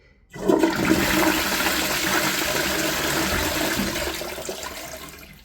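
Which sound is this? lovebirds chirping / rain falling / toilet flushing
toilet flushing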